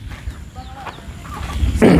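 Short clucks and murmurs from chickens nearby over a rough, noisy background, ending in a loud burst of noise.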